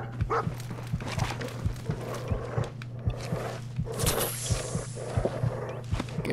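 Dogmeat, the dog companion in Fallout 4, barks amid game combat, with a string of sharp thuds and growls over a steady low hum and a burst of noisy action near the middle.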